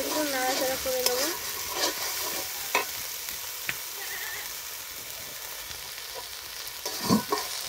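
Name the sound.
stirring and frying ginger garlic paste in a pan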